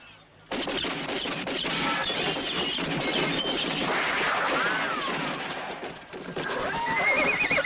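Horses whinny loudly over a dense, noisy rush of hooves and commotion, with sharp bursts like gunfire mixed in.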